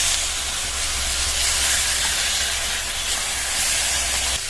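Tomatoes fry in hot oil in a pan, giving a continuous, loud, close hiss that stays steady throughout, with faint crackle and no talking.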